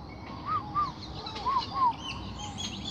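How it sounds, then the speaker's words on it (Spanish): Small birds chirp outdoors in a few short, clear calls spaced across the moment, moderately near over a steady background hiss, with no talking. "ahorita estaba oyendo los pajaritos, no sé si los oyen"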